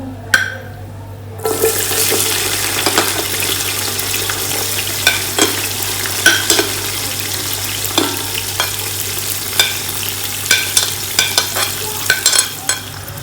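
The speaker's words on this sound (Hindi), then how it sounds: "गरम मसाला हल्का सा फ्राई हो चुका है, अब मैं प्याज ऐड कर दूँगी।" Onions frying in oil with whole garam masala for a white chana pulao, a steady close sizzle with scattered stirring clicks and scrapes in the pan after a brief quiet start.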